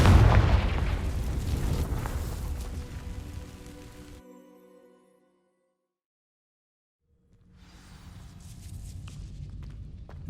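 A Confringo blasting spell bursts against dry vines in Hogwarts Legacy, a loud crackling boom and rumble that fades into silence before burning and ambient noise swell back in.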